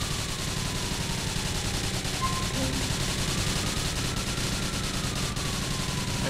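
Continuous rapid gunfire from an unlimited-ammo SMG in GTA IV at an airport, a dense, steady rattle of shots running throughout over a noisy, hissy game background, with no pauses between bursts.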